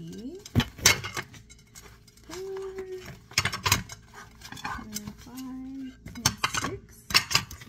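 Target dinnerware plates and bowls being unboxed and handled, with clinks and clatters of ceramic against ceramic in irregular bursts while someone talks over them.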